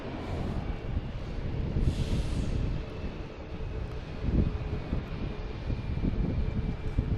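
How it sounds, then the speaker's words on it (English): Small plane taking off at Logan Airport, a broad roar of engine noise mixed with wind buffeting on the microphone, steady and fairly distant with gusty bursts. "You have another cute little plane taking off."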